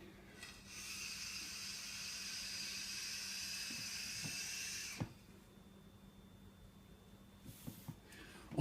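Airy draw through an Innokin iSub tank with its airflow wide open, a steady, soft rushing hiss lasting about four seconds, then a second shorter draw after a pause, with faint clicks.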